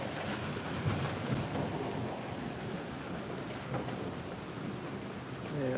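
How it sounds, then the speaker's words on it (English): Steady rain hisses down in a dense, even wash of noise, with faint low rumbles underneath and no voices. "it's raining"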